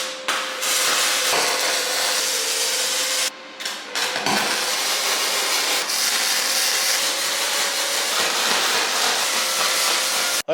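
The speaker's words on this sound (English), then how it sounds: "get this thing tacked together, the old Weld Pro" Weld Pro welder tack welding an OBS Ford F250 truck flatbed frame, a steady crackling buzz broken by a couple of brief pauses between tacks, close and fairly loud.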